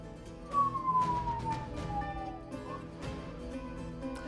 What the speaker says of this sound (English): I don't know if you guys can hear those sirens, but if you can, I'm sorry.